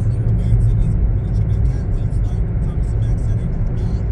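A car drives along a road, its steady low engine and road rumble continuous and close throughout, with faint talk riding over the top.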